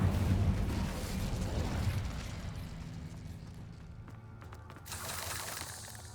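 The Incendio fire spell cast in the video game Hogwarts Legacy bursts out as a broad, rumbling whoosh that fades over several seconds, followed by a second, smaller flare of crackling noise.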